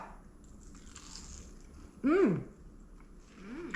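A crunchy breaded fried pickle is bitten into once, a short loud crunch close to the mic, with faint talk around it.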